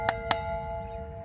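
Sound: bell being rung at old schoolhouse

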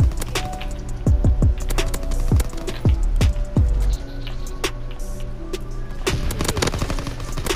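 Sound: gunfire in Call of Duty: WWII video game

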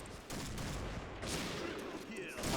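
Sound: gunfire from a new gun in a video game

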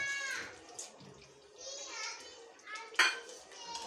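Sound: stirring chicken biryani with lemon juice in pot

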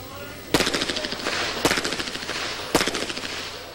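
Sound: pistol gunshots at action pistol championship

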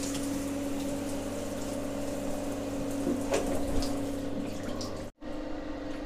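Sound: hot water running from guest house tap

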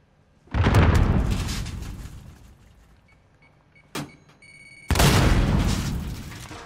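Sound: grenade explosion in the video game Call of Duty: Modern Warfare

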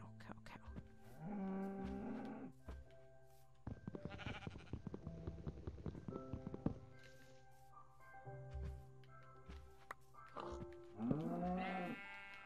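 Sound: cow mooing in Minecraft video game

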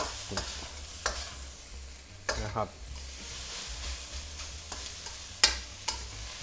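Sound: stir-frying rice in a pan

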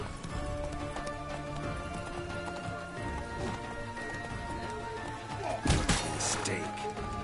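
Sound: horse hooves galloping in The Witcher 3 video game

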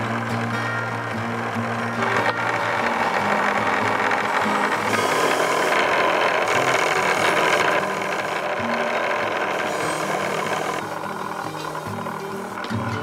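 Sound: old wire wheel cleaning an antique hand pump

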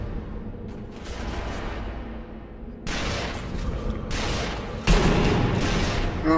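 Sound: gunfire in video game Sniper Elite V2

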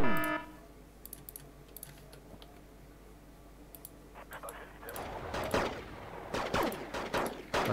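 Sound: gunfire in video game Wargame: Red Dragon

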